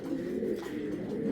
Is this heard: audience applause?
no